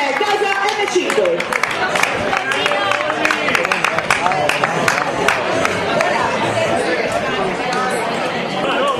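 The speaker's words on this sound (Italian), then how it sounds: "L'applauso, forza, dai!" Crowd at the finish of a Granfondo Eddy Merckx cycling event clapping and chattering, dense scattered claps under continuous talk and an amplified announcer voice.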